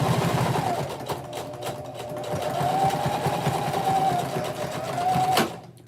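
Sewing machine stitching a girls' skirt, a steady close whirring hum that runs almost nonstop for about five seconds, slightly rising and falling in speed before stopping abruptly.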